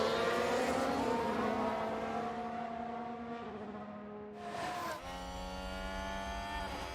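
Formula 1 race cars in F1 Manager 2022 pulling away from the race start, a pack of engines screaming and revving hard, gear changes stepping the pitch up and down, a loud continuous roar.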